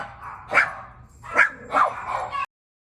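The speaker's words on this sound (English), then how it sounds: "There go my dogs." Dogs barking at home, three or four sharp loud barks spaced unevenly over a couple of seconds, close by with no talk over them.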